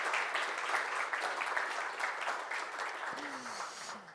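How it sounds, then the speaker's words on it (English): Applause from an award ceremony audience for science award winners, a steady wash of clapping at moderate level, with a brief voice near the end. "Yeah, and applause, please."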